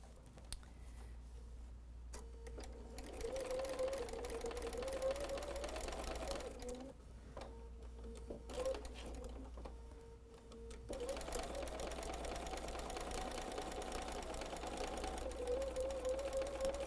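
A sewing machine joins quilt pieces in several fast bursts of stitching separated by short pauses, running close and fairly quiet with a faint low hum beneath.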